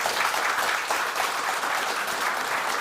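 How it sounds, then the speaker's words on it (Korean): Steady, full applause from the audience at a defense industry association breakfast forum welcoming Korea's new defense procurement agency chief, a continuous wash of many hands clapping at close range. "먼저 큰 박수"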